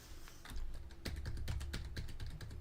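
Fast, sharp clicks on a mouse or keyboard while playing the Cryo Abyss extreme demon level in Geometry Dash, a close, steady burst of rapid taps with no talking.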